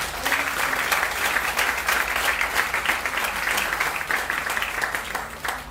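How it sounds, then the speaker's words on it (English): An audience gives sustained applause for teachers at a student arts awards event, a steady, even patter of many hands clapping from start to finish. "So let's give a round of applause for all of the teachers."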